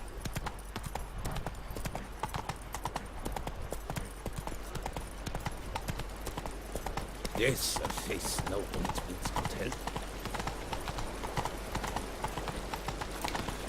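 Horse hooves clip-clop at a walking pace through a city street in a video game, steady close hoofbeats under game music, with a brief line of spoken character dialogue in the middle.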